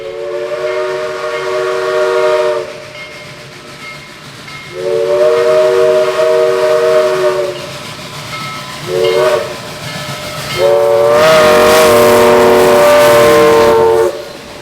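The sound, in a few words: steam locomotive passing with whistle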